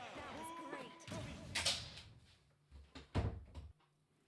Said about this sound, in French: Oh, ma porte, elle est pas fermée.